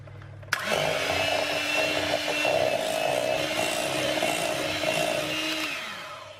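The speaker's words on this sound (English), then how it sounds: "now we're going to whisk it until it's nice and smooth and creamy" An electric whisk beats just over a pound of ricotta in a large bowl, a steady, fairly loud motor whir that starts abruptly and runs evenly for about six seconds before easing off, with no talking.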